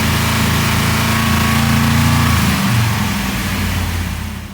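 A Mopar engine on a dyno revs hard, a loud sustained mechanical roar with a strong low drone that holds steady, then drops in pitch and fades off toward the end as the throttle comes back.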